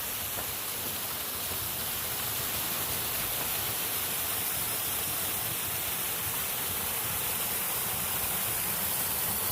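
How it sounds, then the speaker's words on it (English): Waterfall beside a trail near Pine Creek, heard as a steady, loud broadband rush of falling water that continues unbroken throughout with no voices. "Here's another one of the waterfalls along this section."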